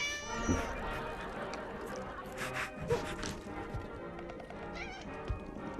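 A cat meows in a dramatic film scene, its cries rising over a busy background of music and clattering movie sound, with brief voices nearby.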